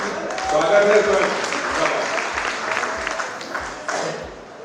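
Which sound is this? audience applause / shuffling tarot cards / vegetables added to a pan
audience applause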